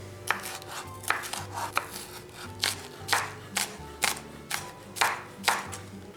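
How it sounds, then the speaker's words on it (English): A knife chops green onion and red pepper on a cutting board in a steady series of about a dozen crisp, close thuds, with no talking. "we've got to slice up some green onion and a red pepper"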